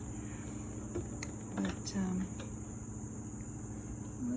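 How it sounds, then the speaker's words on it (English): Katydids sing in a steady, continuous high-pitched drone outdoors, with low traffic rumble underneath and a brief spoken word partway through. "the katydids are making their noises"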